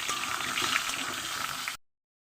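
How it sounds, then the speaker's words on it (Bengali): Half-boiled potatoes fry in a pan with a steady, fairly close sizzling hiss that runs for under two seconds before cutting to silence. "এবার আলুগুলো আমি এখানে ভেজে নেব"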